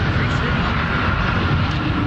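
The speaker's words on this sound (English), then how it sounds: "Here's the 777 That's landing." Boeing 777 wide-body twin-engine jet on its landing approach, a loud continuous broadband roar with wind buffeting. The engine noise is steady for the whole short stretch.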